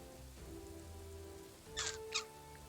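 A volley of arrows rains down in a video game: two quick, crisp clattering bursts in close succession over a low, steady game-ambience hum, fairly quiet overall.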